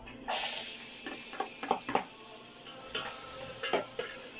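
Onion and ginger hitting a hot pan for chicken sinigang, a sudden loud sizzle followed by a run of short scraping stir strokes and utensil knocks, close by with no talk.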